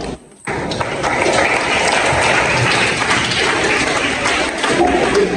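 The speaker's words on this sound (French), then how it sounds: "à qui je demande d'applaudir très très fort" Audience applauding teachers at a student gathering in Senegal, a dense continuous patter of clapping hands after a brief pause, loud and steady throughout.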